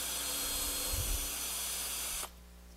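A drill spinning a 1/8 inch bit to ream out an undersized hole in wood for a drafting board, a steady close whir that cuts off abruptly near the end.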